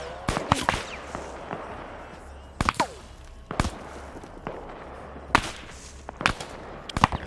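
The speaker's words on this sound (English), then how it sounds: "Thought I just heard an autocannon firing in the way distance there." Sharp bursts of gunfire ring out in a large PvP military video game, loud cracks scattered unevenly across a quiet background, some doubled, with low distant rumbles between them; no talking.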